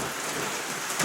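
Steady rain patters down on a trail along the Appalachian Trail section between NOC and Fontana Dam, an even close wash of drops with no voices, brightening slightly near the end.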